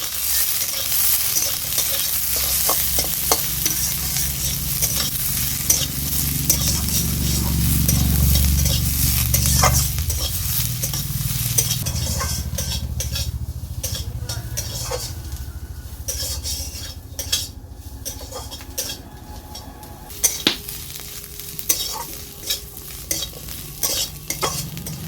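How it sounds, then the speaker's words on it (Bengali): Chopped onion, garlic and green chilli frying in oil, a loud continuous sizzle at first that gradually settles, with frequent metallic scrapes and clinks of a spatula stirring against the pan, close up with no talk. "এবার এই তেলেই আমি দিয়ে দেব পেঁয়াজ কুচি, রসুন কুচি আর কাঁচা লঙ্কা কুচি"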